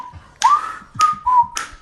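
A person whistles three short, clear notes in a row, close and fairly loud, each one starting with a brief breathy burst.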